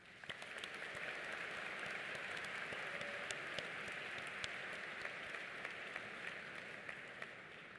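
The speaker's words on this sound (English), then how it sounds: "Please join me in congratulating them with a round of applause." A graduation ceremony audience for business, urban planning and law graduates gives sustained applause. The clapping is dense, steady and rain-like, with scattered sharper claps, and somewhat distant and quiet. There is no talking.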